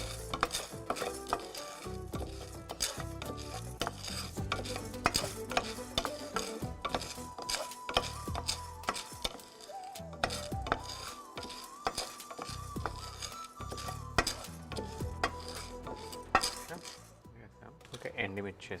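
Chana dal, dried red chillies and sesame seeds being stirred and fried for a rice masala in a pan on a stove, with steady scraping and clinking of a utensil against the pan under background music.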